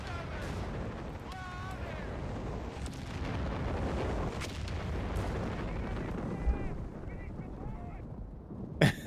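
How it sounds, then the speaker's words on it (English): Artillery shelling in Company of Heroes 3, a steady rumble of distant booms and impacts rolling under battle noise, with a sharper close blast near the end and a commentator talking over it. "The most optimistic arty ever seen."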